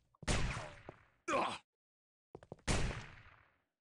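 Rocket-launcher shots in Quake 3 DeFRaG, several sharp loud blasts with short decaying tails, spaced apart with near silence between them.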